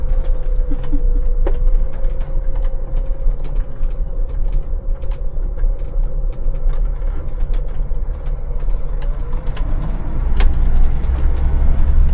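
An automatic-gearbox bus drives along with a steady low engine drone and a faint whine that holds, then dips slightly, while occasional clicks and rattles from the cabin come through and the engine swells louder toward the end.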